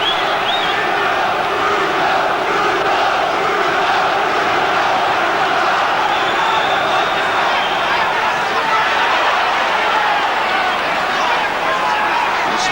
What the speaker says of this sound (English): This crowd willing Bruno to finish it here.